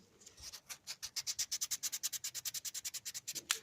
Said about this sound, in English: This piece of sandpaper is starting to